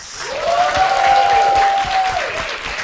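A live audience at a hotel bar claps and cheers for a few seconds, the applause swelling and then tapering off, with a whistle rising above it.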